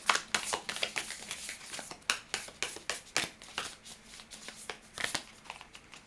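Tarot cards being shuffled and drawn at close range, with a quick, uneven run of crisp papery snaps and riffles, and no talking.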